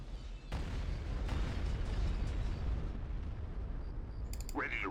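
Heavy bombardment in the Star Wars Empire at War strategy game: a dense, sustained rumble of explosions after a sharp initial blast, with a brief higher whine near the end.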